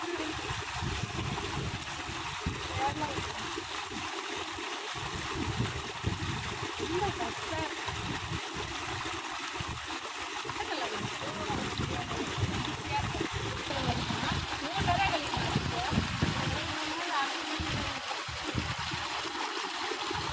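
Water rushes and splashes steadily into a rice field for the whole stretch, a continuous outdoor flow with faint voices underneath.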